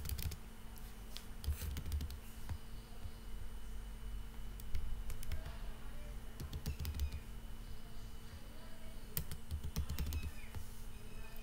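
Values are typed on a computer keyboard in short bursts of quick, crisp key clicks separated by pauses, close and fairly quiet over a steady electrical hum.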